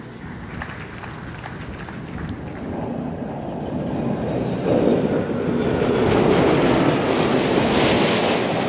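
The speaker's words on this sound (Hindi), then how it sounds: "आसमान को चीरते आ रहा है MiG-29 के लड़ाकू विमानों का यह दस्ता" MiG-29 fighter jets pass overhead above an aircraft carrier at its commissioning ceremony. A broad, rushing jet roar swells steadily louder and builds toward a peak as the planes approach, with no voices.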